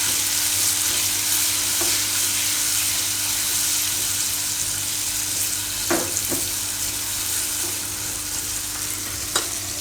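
Tomatoes for tomato poha, seasoned with Kashmiri chili, cook in a pan with a continuous, even sizzle, a steady close hiss with a low hum beneath and a few sharp clicks of a utensil, no talking.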